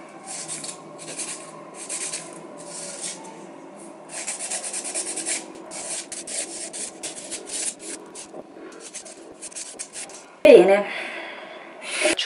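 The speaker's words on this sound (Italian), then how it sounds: "Poi di solito io le limo con questo, così, anche se le limo grossolanamente, me le lima comunque tutte a prescindere." Fingernails being filed with a nail file, repeated short scratchy rubbing strokes in bursts, close and fairly soft, with a sharper scrape near the end.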